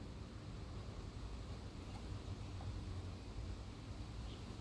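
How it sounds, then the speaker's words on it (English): Outdoor wind picking up, a faint, steady broadband rumble and rush with slight gusty swells and no voices. "The wind started picking up too."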